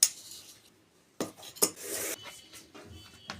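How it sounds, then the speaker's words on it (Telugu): A knife slits chillies lengthwise down the middle, leaving the tops intact, with a few sharp close taps and a brief scraping stroke against a board after a quiet start. "ఇప్పుడు మనం మిరపకాయలు కట్ చేసుకుందాము."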